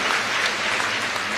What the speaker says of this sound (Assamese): এটা দীঘলীয়াকৈ হাত চাপৰি বজাই দিয়ক তেখেতসকলৰ কাৰণেও